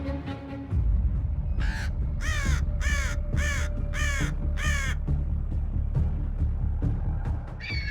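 A raven in an alpine mountain setting gives about six harsh, evenly spaced croaking caws over a steady rushing background, loud and close.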